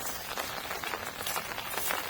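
Heavy rain pours outdoors beside a riverside fishing spot, a dense, steady hiss of drops pattering on surfaces, loud and unbroken for about two seconds with no talk.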